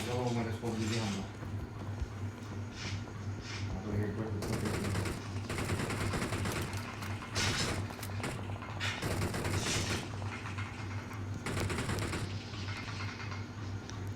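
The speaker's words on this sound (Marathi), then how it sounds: "6 गोळ्यात तो पुरा बंदा फिनिश केला" Rapid bursts of gunfire from the mobile game BGMI on the Livik map crackle in repeated volleys throughout, under constant excited talk between players.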